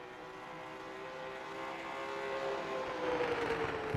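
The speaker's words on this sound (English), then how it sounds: "And you heard him burp the throttle." Race car engine on a short oval at Nashville Fairgrounds, a steady droning roar that builds gradually in volume, with no distinct burp of the throttle standing out; no talking.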